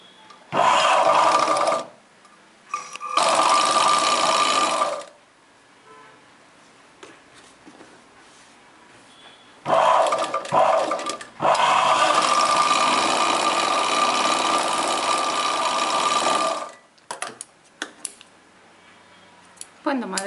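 A sewing machine runs loud and close on a chudidar pant yoke piece in several bursts, short ones first and then a long steady stretch, with quiet pauses between them.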